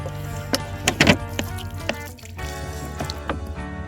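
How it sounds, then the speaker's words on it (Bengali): Water poured from a watering can onto Bombay onion plants growing in pots in a rooftop garden: steady close splashing and trickling with a few sharper drips and gurgles, no talking. "ঝাঁঝির সাহায্যে জল দেবেন দিলে ওর ঠিক ভেতরে ভেতরে সব চলে যাবে"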